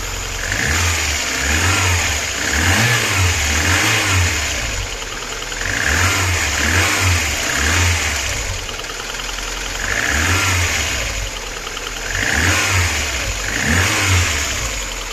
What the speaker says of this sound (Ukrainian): Працює на холодну машину.